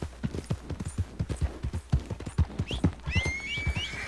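A horse in Red Dead Redemption 2 clops along at a steady walking rhythm, its hoofbeats close and clear, then whinnies loudly near the end over the continuing hooves.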